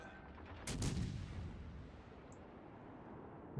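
Warship guns fire in World of Warships Legends: a single heavy booming salvo hits loudly and then fades into a long low rumbling tail, with no voices.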